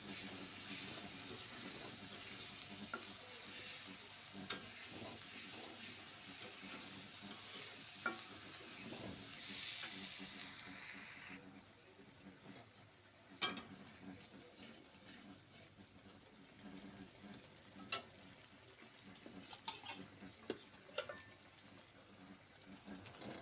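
Masala sizzles while it is stir-fried in a pan for grilled chicken. A continuous hiss with scraping stirs comes first, then a quieter, crackling fry with occasional clinks.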